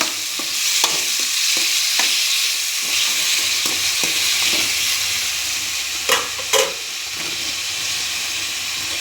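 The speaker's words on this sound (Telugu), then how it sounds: "ఈ టమాటా ముక్కలు బాగా మెత్తగా మగ్గాలండి" Tomato pieces frying in a pan for a tomato curry: a loud, continuous sizzle and hiss with occasional scraping stirs and a couple of clanks near the end.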